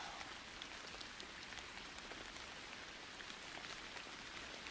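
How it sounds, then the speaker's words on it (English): Light rain plays as a soft, steady wash of fine droplets, faint and unbroken, with no voices over it. "we got the light rain sounds"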